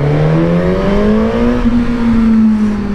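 A Suzuki GSX-S 1000 four-cylinder motorcycle engine revs up with a deep, bassy tone, its pitch climbing smoothly and then holding steady, loud and close throughout with no talking.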